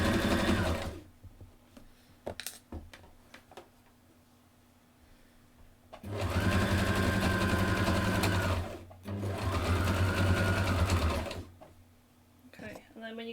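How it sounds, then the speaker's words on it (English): A sewing machine runs in loud, fast bursts while stitching fabric and pivoting at the needle, with several short stitching runs separated by pauses where a person talks. "leave the needle in the fabric and pivot the fabric and then sew"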